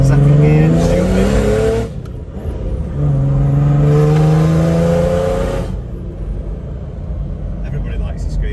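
A Nissan Patrol GU (Y61) fitted with an OM606 Mercedes diesel engine is driven gently through the gears, its engine droning and rising in pitch, easing off for the shift, then climbing again. Someone talks over it.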